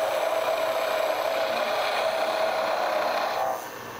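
A skew chisel cuts wood spinning on a Shopsmith MARK 7 lathe, giving a steady scraping hiss over the constant machine hum. The cutting noise drops away just before the end.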